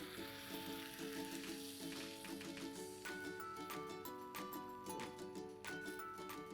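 Tomatoes, onion and red chilli flakes fry in a pan with a steady, close sizzle throughout, joined by light clinks and tonal music-like ringing over the crackle.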